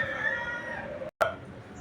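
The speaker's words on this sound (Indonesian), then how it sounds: "terdengar di sisi sana adalah kokok ayam" A rooster crows in the distance around a family home, one long drawn-out call followed by a brief second cry, faint against quiet surroundings.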